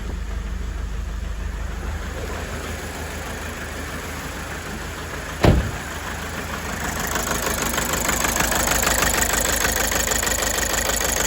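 A Toyota Avensis engine runs with a misfire, a steady close idle with uneven knocking beneath, one sharp thump partway through and the engine note rising slightly toward the end.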